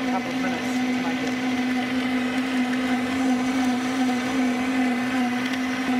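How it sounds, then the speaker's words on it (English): An underpowered blender whirs steadily as it blends almonds into almond milk, a loud continuous motor drone with a churning, sloshing edge throughout. "if you've got a very underpowered blender, it may take a couple of minutes to make"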